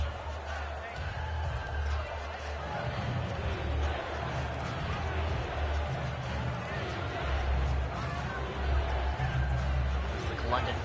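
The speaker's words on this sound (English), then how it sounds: "The London crowd trying to keep their team in it." A stadium crowd roars in the video game Madden 17 during a London game, a continuous dense rumble of cheering that swells and dips beneath steady play-by-play commentary.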